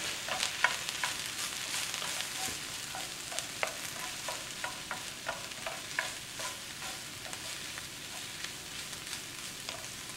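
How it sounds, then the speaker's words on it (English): Peppers, onions and garlic frying in a pan hiss softly while a utensil stirs them, with repeated light scrapes and taps over a quiet, steady sizzle. "Now I'll mix my peppers and onions along with the garlic."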